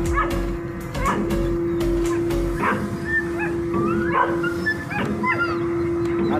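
A dog on a ferry yips, whimpers and gives short barks over a steady engine hum and a strong ship drone, the cries coming in several brief bursts near the listener.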